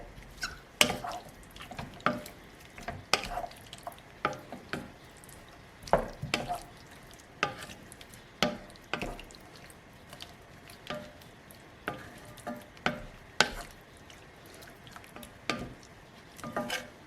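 Vegetables sizzle in a frying pan with herbes de Provence while a utensil stirs them, producing soft, irregular scraping taps over a faint, steady hiss, close and quiet, with no speech.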